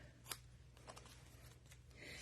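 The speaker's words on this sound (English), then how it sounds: "I'm going to cut it down not quite in half." Scissors cutting the stem of a potted plant with fronds, a sharp snip followed by softer cuts and light handling noises over a low steady hum, no talk.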